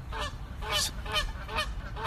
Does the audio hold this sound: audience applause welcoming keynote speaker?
no